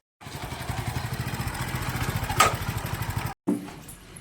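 A motorcycle engine idles with a steady, rapid chugging pulse, briefly revving, then cuts out and restarts near the end.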